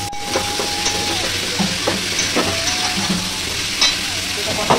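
Pumpkin and sweet potato sautéing in a pan, with a steady close sizzle and repeated scraping stirs of a spatula across the metal, the bursts coming every second or so without pause.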